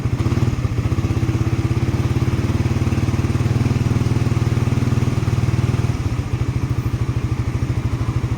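Small Moscow Mini 3 engine, fitted with a voltmeter, runs at a steady close idle with a dense, even rapid chugging pulse throughout, briefly shifting in tone near the end.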